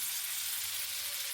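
Pomfret fish pieces for a pepper fish fry sizzle in a hot pan, giving a steady, even hiss without breaks.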